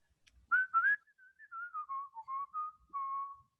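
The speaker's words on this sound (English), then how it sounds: "You want to whistle for us?" A person whistles a short melodic tune alone, clear and close, with a few quick opening notes followed by longer sustained ones.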